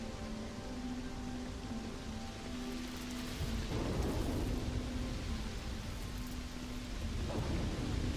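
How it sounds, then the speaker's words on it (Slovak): Rain and thunder on a planet in the video game Starfield: steady hissing rainfall with deep rolling thunder that builds to louder rumbles midway and again near the end, with no talking. "Teda trocha prší"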